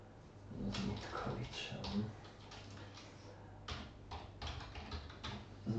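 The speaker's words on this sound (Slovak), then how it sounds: "takže napíšem tam Tibor" Someone types a name on a computer keyboard, light rapid key clicks in two short runs, nearby and fairly quiet, under a soft voice.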